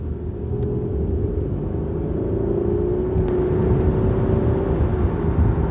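A Toyota or Lexus car engine runs with a steady low rumble and whir, rising slightly in pitch under light throttle, close and continuous with no speech.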